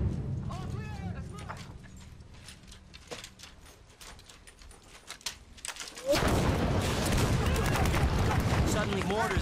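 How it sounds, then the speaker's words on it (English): Scattered gunshots and distant mortar explosions from the Vietnam War crackle in the background, then a dense, loud barrage of rapid fire erupts and continues without pause. "Suddenly, mortars and gunfire are flying in from everywhere."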